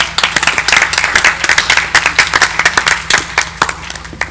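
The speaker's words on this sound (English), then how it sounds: "Let's give our panelists another round of applause." A live audience claps for panelists at the Woman Forward Forum, a dense, lively round of hand claps that runs steadily for a few seconds at close range.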